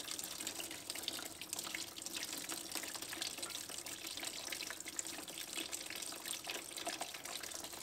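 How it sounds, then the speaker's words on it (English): Used car coolant with about 20 miles on it is strained for reuse, a faint, continuous trickling and splashing of liquid pouring steadily with no voices. "So we're gonna strain out our coolant."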